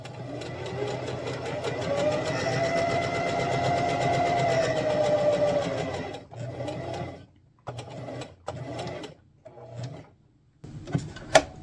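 A sewing machine stitches a fabric LARP shield cover, running steadily for about six seconds, then stopping and starting in short bursts with quiet gaps between, close and alone.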